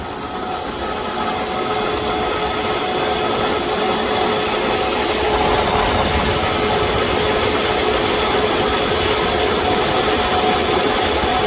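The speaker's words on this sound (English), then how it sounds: "you will see that this compressor will not turn off" A car's AC compressor that will not cycle off runs continuously with the engine idling, a steady droning hum with constant vibration and no pauses, close and alone throughout.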